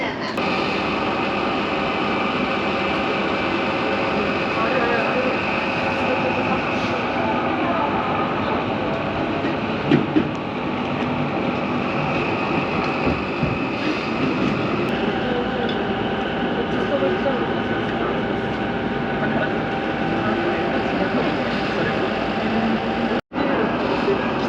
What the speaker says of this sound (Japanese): 隣のホーム4番線に、停車中の中央特快東京行きの電車にまずは乗車したいと思います。